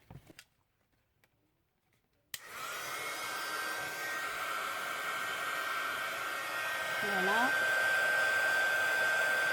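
Heat gun blasting hot air over embossing powder on paper, starting abruptly after a near-silent moment and holding a steady, loud whooshing roar with a thin whine for the rest of the stretch; a brief word is spoken near the end.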